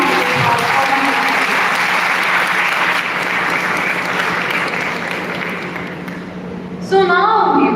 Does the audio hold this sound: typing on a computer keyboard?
no